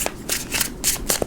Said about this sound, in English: 2 more shuffles, 8-card spread.